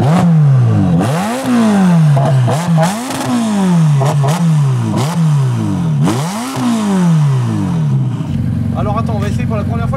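A sports car engine with carbon rims revs hard in repeated rising and falling blips, loud and close, about six sharp throttle sweeps before settling into a rough idle while voices talk over it.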